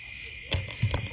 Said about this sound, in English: can you hear my owl?